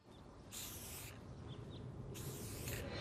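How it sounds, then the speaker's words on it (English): Two bursts of aerosol spray paint hissing from a can as a heart is painted on an outdoor wall in a backyard, each burst about half a second long over steady low background rumble. "with spray painting this heart on the wall, it's a one-time deal"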